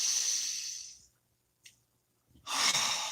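A deep breath drawn in slowly and then let out, close and soft, with a quiet pause between the two hissing airflows and no talking.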